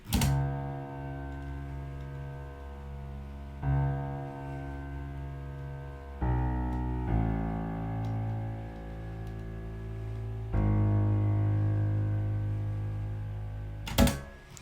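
A basic bass chord progression plays alone and fairly quietly, sustained chords changing every few seconds, with about five shifts before a sharp final hit.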